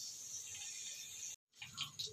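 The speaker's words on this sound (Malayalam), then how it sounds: "ഉലുവ നന്നായി പൊട്ടി വന്നു." Fenugreek seeds splutter in hot coconut oil for a prawn curry, a faint, steady hiss and fine crackle that cuts out for a moment and returns with a few sharper pops.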